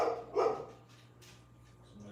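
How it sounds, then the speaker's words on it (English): A dog lets out a single loud, close bark near the start, then only a faint electrical hum lingers with no voices. "just wait till the dog starts barking"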